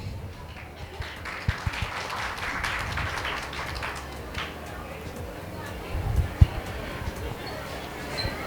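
An audience applauds a mimicry performer on stage at an anniversary skit event, a low, steady patter of clapping with scattered louder claps, heard under someone speaking over a microphone.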